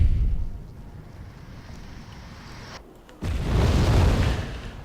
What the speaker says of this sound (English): Su-24 doing a bombing run, yeah, taking out a few of the forces.